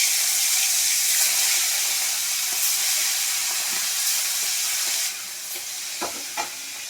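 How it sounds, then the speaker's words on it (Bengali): Potatoes are dropped one by one into hot oil in a kadai where koi fish were just fried, giving a continuous close, loud sizzle with stirring and a few sharper pops and splutters near the end. "এবার আলুগুলো আমি একে একে ছেড়ে দেবো।"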